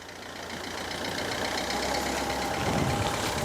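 A Renault car engine rumbles steadily nearby, idling with a slight rise in intensity partway through, no voices over it.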